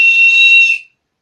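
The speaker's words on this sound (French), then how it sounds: "Petite démonstration du sifflet" A survival kit whistle is blown in one piercing, steady blast lasting under a second, loud and close, then cutting off into silence.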